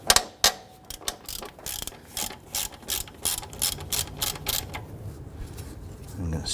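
A ratchet loosens the 13mm top alternator bolt on a 1994-2004 Ford Mustang 3.8L, giving rapid, loud clicking pawl bursts in repeated strokes, close up and alone.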